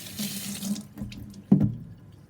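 Green plantain being washed under a running kitchen tap, water splashing steadily with a couple of louder gushes and splashes near the end, close and clear with no talking.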